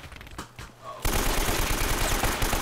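Sustained gunfire in Uncharted 1, a dense loud burst of rapid shots that erupts suddenly after a quieter moment and keeps going.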